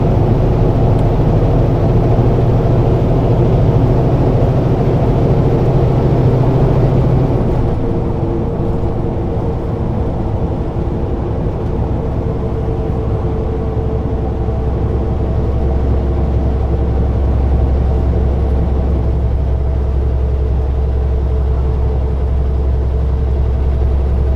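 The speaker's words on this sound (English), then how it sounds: "letting you guys listen to the engine" Heavy truck engine droning steadily from inside the cab on a highway, a deep continuous rumble with road noise and a low tone that shifts partway through, no talking.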